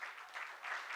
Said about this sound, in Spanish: un aplauso para Janssen.